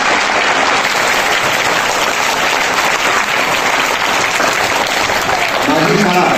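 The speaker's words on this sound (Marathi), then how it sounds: "शाळेतील सर्व शिक्षक बंधू भगिनींचं टाळ्या वाजवून" Steady, dense audience applause at a school speech competition held under a school beautification campaign, many hands clapping loudly and continuously for about six seconds, with a voice surfacing at the very end.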